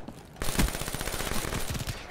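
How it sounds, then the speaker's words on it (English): A Vesper submachine gun in Black Ops 3 fires a fast, unbroken automatic burst, loud and close, starting abruptly and rattling continuously for under two seconds. "Vesper, why you do this? Gun shoots so fast."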